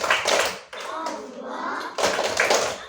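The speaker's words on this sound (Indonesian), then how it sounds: "Kita bertepuk Al-Alim dulu yuk." A class of children claps a rhythmic Al-Alim clap in a classroom lesson, with bursts of sharp hand claps and voices chanting along in a steady pattern.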